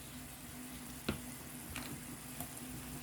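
Ground beef sizzles steadily in a hot pan as chopped garlic goes in, with a few soft clicks and scrapes of a utensil over a continuous low frying hiss.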